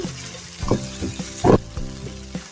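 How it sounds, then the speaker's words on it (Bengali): Grated raw potatoes being mixed with onion by hand in a bowl, giving soft wet squelching and rustling bursts at an irregular rhythm, close and fairly loud, with no talking. "আমি এই পেঁয়াজের সঙ্গে ভালো করে মিশিয়ে নিচ্ছি।"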